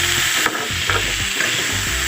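Moringa drumstick curry frying in a pan gives a continuous loud sizzle, with stirring scrapes coming in short regular bursts.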